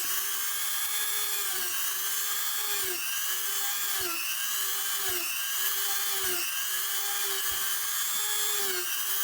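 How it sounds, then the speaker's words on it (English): A small high-speed drill bores a row of stitching holes in leather, a whining motor tone that dips in pitch with each hole, repeating in a steady rhythm about every second, close and continuous. "now we are going to drill all the stitching holes."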